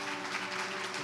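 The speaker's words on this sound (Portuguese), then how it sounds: "Você pode aplaudir Jesus, cara?" A church congregation applauds faintly for about a second, soft continuous clapping blended with sustained steady tones underneath.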